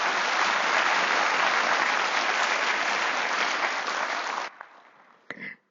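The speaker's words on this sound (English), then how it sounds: "let's have another round of applause for Lakpa" An audience at a Buddhist gathering gives a speaker a dense, sustained round of applause that cuts off abruptly, leaving a few scattered claps and a brief rustle.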